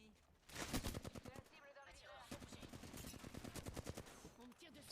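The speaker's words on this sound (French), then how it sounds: "on me tire dessus." Rapid bursts of gunfire in a multiplayer video game crackle in quick repeated volleys, fairly faint, with a voice talking over parts of it.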